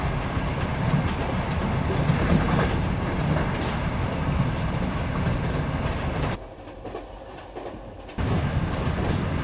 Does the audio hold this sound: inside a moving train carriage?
yes